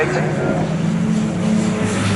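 A VW Racing Cup race car at Donington Park crosses the line with a sustained engine roar, as other cars drone nearby, all under a commentator's running talk.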